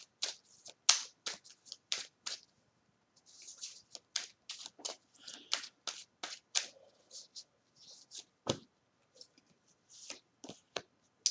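Tarot advice cards being shuffled and drawn, with many quick crisp snaps and slaps in an irregular rhythm, close and fairly quiet, with no voices.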